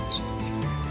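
A jungle prinia, a small Indian songbird, gives one brief high chirp near the start, heard over a steady low background hum.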